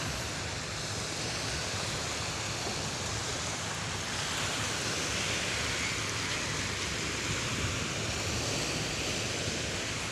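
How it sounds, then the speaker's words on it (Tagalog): Steady broadband wash of surf and churning waves stirred up by a passing ship, loud and continuous, with wind noise blowing across the microphone throughout. "Lumalaki guys yung mga alon gawa ng may barko yatang dumaan."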